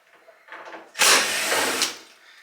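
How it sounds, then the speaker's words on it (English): A power drill unscrews screws from a Samsung dryer: a quiet buzz opens, then a loud, close whirring burst lasts about a second before fading back down. "you have to unscrew these screws, this and this."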